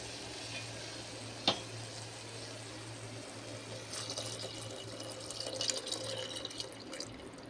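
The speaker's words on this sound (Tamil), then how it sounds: "இப்போ வந்து தண்ணியை சேர்த்துருவோம்." Water is poured into rice while making plain kuska, a steady soft wash of pouring and trickling close by with a low hum underneath and no voices.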